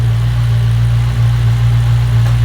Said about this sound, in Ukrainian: при заведеному двигуні